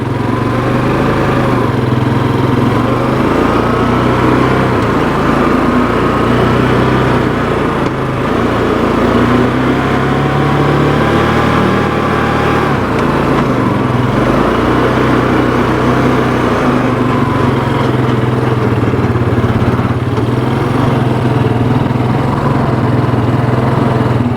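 A Yamaha Terrapro ATV with a PTO runs on a ride, its engine a loud, steady, close droning hum that barely changes pitch for the whole stretch, with no voices.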